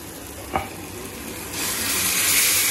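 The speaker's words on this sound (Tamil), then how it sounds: "இப்போ நம்ம மட்டனை மிக்ஸ் பண்ண போகிறோம்" Mutton is stirred in a sizzling pan, a close crackling fry with one sharp clack of the utensil early on, then the hiss swells louder and brighter over the last second, with no talking.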